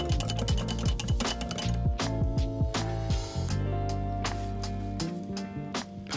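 Metal utensils clinking against dishes while oyster toppings are mixed with Tabasco and cocktail sauce: repeated sharp, bright clinks and scrapes in irregular rhythm, close and fairly loud, alone without talk.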